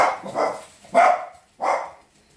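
Several small dogs barking indoors in a kitchen, three sharp close bursts of barking spaced about half a second apart, fairly loud, with no talking over them.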